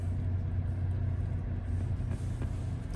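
A 2019 Kia Carnival S GDI wagon's engine idles with a steady low rumble, continuous and fairly loud up close, with no clear start-up surge.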